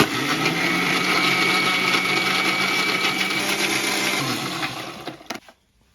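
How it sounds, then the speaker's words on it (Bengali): A blender or grinder whirs loudly and steadily for about five seconds while churning yogurt, powdered milk, sugar and ice into lassi, with rattling ice in the motor noise, then cuts off abruptly near the end. "এখন এইটারে ব্যালেন্ড করে লমো"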